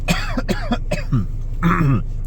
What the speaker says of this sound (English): every now and then I'm still coughing